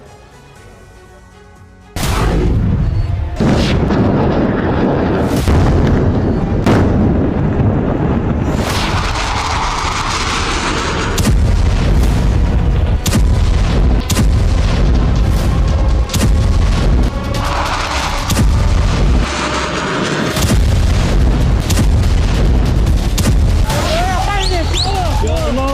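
Israeli air strikes and bombardment send repeated heavy booms and blasts at irregular intervals over a sustained roar, while a voice talks throughout.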